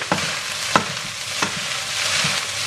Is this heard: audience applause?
no